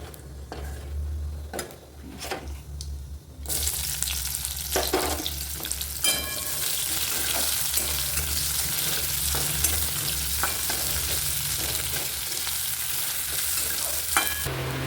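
Onion sizzles and crackles in hot oil in a wok, with steady frying hiss and scattered stirring scrapes and clinks throughout, growing louder after the first few seconds.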